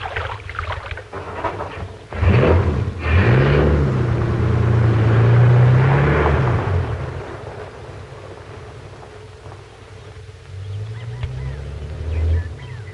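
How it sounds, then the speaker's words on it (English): A car in a 1946 film drives away, its engine rising into a loud, close drone that fades, then a second swell of motor noise returns amid windy rumble, without talk. "Well, he's driving back to town."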